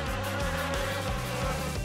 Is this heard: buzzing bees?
yes